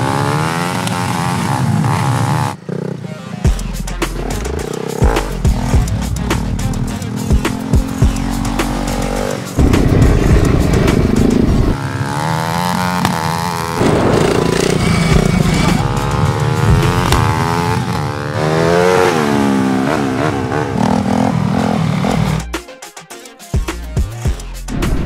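A turbocharged motocross bike engine revving hard, a loud close buzzing roar that rises and falls through repeated throttle blips and shifts, with brief drops to idle.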